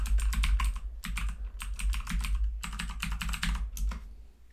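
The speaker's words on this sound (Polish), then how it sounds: "Musimy wpisać hasło." Password being typed on a computer keyboard: close, crisp keystrokes in quick irregular bursts with brief pauses between groups, steady and alone.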